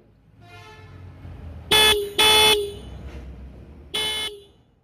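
Three loud, harsh horn honks from a 2020 Apache RTR 180 2V BS6 motorcycle, two close together and then one more after a pause, over quiet background noise.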